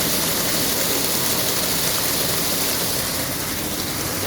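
Steady, loud rush of flowing water from a stream, a continuous broadband wash with no pauses or talk over it.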